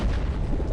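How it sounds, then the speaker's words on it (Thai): A Roblox underwater diving game bomb detonates at an undersea cave entrance, a brief, muffled, low rumbling boom that fills the short moment without any voices. "ตอนนี้เรากำลังจะเอาระเบิดไปติดตั้งอยู่หน้าถ้ำนะฮะ"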